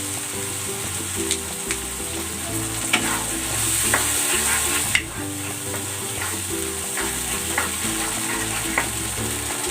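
Tomatoes sautéing in a pan for a chicken dish, with a steady bright sizzle, occasional stirring scrapes and clinks, heard close and continuous without talk.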